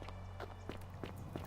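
Running footsteps in The Forgotten City, about five quick, evenly spaced steps over a steady low hum.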